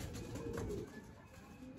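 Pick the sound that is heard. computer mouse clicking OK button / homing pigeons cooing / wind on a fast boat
homing pigeons cooing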